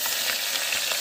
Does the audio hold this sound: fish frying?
yes